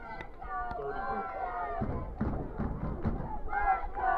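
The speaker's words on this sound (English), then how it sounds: "Crowd trying to get involved here." A high school football crowd at General Brown versus Indian River cheers and yells loudly in a continuous roar with rising shouts, under commentators' talk.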